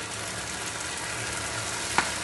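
A tilapia stew sizzles steadily as frozen coriander goes in, an even close frying hiss with one sharp little click near the end.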